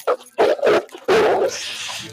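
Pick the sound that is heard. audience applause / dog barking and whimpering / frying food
dog barking and whimpering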